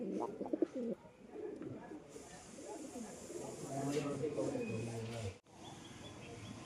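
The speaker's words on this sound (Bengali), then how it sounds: "এক জোড়া কবুতর দুটোই কালদম" Pigeons coo repeatedly at a pigeon sale, soft throaty calls close by amid bird chatter, with people talking over them.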